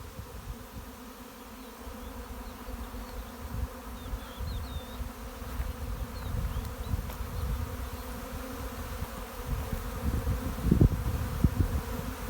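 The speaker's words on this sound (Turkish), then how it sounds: "ortamda çok yoğun bir arı gezintisi var" A dense swarm of honeybees hums and buzzes continuously around the listener, a low droning mass with occasional closer passes.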